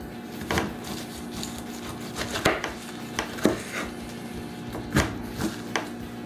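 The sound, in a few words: Yoshi Blade knife slicing a pineapple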